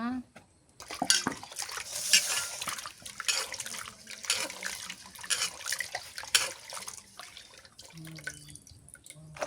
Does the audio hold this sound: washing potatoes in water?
yes